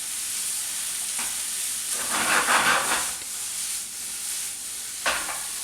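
Onions, peppers, courgettes and aubergines fry in a pan with a steady broadband sizzle, swelling louder in the middle as the vegetables are stirred, with a brief clatter near the end.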